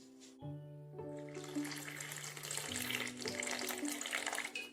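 Water is poured into a coconut milk and cornflour mixture, a close, soft trickling pour that starts after a brief pause and continues steadily, with faint background tones and no speech.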